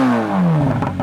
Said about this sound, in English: Now that is the sound of a flat plane crank.